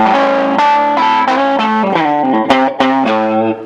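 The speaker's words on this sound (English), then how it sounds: "Hino, Japanese Strat, playing through a Paul Reed prototype." An Atelier Z Mas Hino Japanese Strat-style electric guitar played through a PRS 25th Anniversary prototype amp into a Valvetech 2x12 cab rings out loud and close, with sustained chords and shifting notes, alone without voices.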